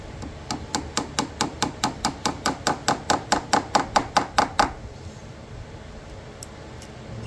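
Hammer driving nails into an antique wooden bed frame, a steady run of about twenty sharp, evenly spaced close blows that stop abruptly, followed by quiet room tone.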